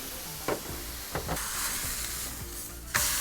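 Sliced ribeye and frozen Steak-umm sizzling in oil on a griddle set to high heat, a dense continuous hiss broken by a few spatula scrapes and a louder burst at the end.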